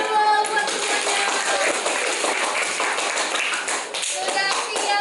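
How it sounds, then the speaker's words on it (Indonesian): A group claps hands together in a classroom-style activity, a brisk, dense round of clapping that continues steadily for about five seconds before tapering off, close and fairly loud. "tepuk tangan dulu buat semuanya"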